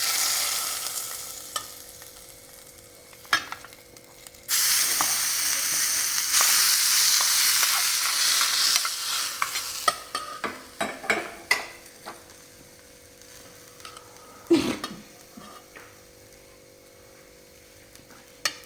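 Mustard-style tempering spices with a pinch of asafoetida crackle and sizzle in hot oil for a fresh salad, a loud burst of frying hiss followed by scattered sharp pops and crackles, close up with no talking.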